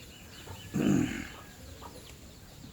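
A mother hen with chicks clucking near a snake in a rural yard, one short, fairly loud burst of clucking followed by quieter background.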